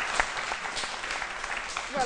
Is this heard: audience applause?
yes